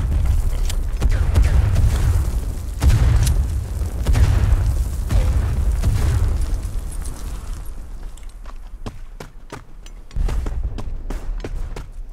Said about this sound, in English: Shit, they've got mortars on us on the right now.